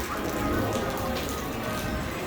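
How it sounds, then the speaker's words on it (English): Rain from Hurricane Nicole falling at Magic Kingdom, a steady close patter of drops on surfaces with a constant wash of noise and no clear talk. "It's starting to rain a little bit right now, harder than it was earlier."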